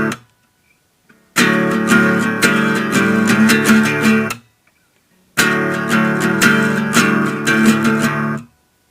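Guitar strums a down, up, down, up pattern with the bottom two strings left open, two loud, close phrases of rhythmic strumming separated by a brief silence.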